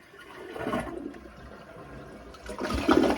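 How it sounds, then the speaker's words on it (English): A newly replaced toilet flushes, its water rushing and swirling for a few seconds and swelling loudly near the end, heard close up with no talking. "the toilet flushed and worked"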